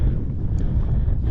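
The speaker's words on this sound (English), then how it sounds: "It's a little bit too blowy" Strong wind buffets the microphone on an exposed hilltop ridge near the summit of Chrome Hill, a steady loud low rumble that fills the whole moment with no voices.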